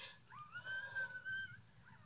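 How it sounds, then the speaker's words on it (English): Puppies crying with a thin, high whimpering whine that rises and holds, faint and fairly close, over a low background rumble with no talk. "She can't hear these puppies crying like that."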